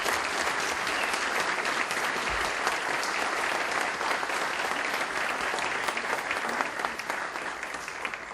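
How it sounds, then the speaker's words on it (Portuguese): Sustained applause from an audience at an opening ceremony honoring award recipients, dense, steady clapping that fills the room for the whole stretch without pause. "Todos eles e os demais homenageados merecem a salva de palmas do pessoal."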